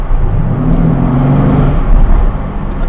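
A 2020 Mercedes-AMG C63 S Estate exhaust in comfort mode, a deep, steady low rumble heard up close from inside the car, with no talking.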